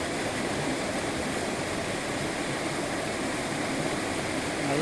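A waterfall beside the road from Bommidi to Yercaud gives a steady, unbroken rush of falling water, loud and close throughout, with no voices over it.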